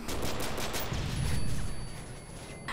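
Gunfire rattles in Call of Duty: Modern Warfare 3, a rapid burst of shots followed by a heavy, rumbling stretch as the firing blurs into noise before a final crack.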